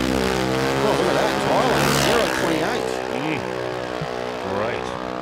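A junior dragster engine at Willowbank Raceway runs during a drag racing qualifying pass, its tone rising and falling in pitch under a commentator's voice.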